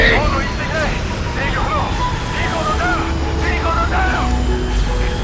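Support helicopter flying in the video game Metal Gear Solid V, a steady engine and rotor drone running throughout, heard under game music, effects and voices.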